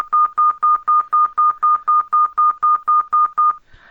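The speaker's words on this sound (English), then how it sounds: "we can make a kind of sound of phone call beep" A synthesized electronic phone-call beep pulses steadily, about twenty short identical tones in an even rhythm, loud and clean, ending with a brief soft noise.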